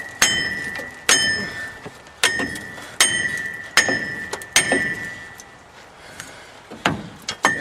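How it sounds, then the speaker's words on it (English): A big hammer pounds a four-wheel-drive part removed from a truck: about eight sharp, ringing metallic blows in an uneven rhythm, loud and close, with brief pauses between strikes and no talking. "take a big hammer and beat the damn thing"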